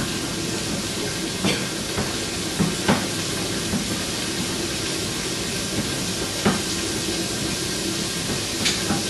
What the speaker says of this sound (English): I hear the onion sizzling